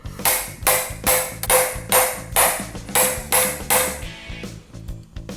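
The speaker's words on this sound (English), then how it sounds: "Let me get that big ass hammer" A big hammer drives a rod to push a pilot bushing out of a hot rod ute, landing about eight heavy, ringing metallic blows at an even pace, close and loud, before the strikes stop.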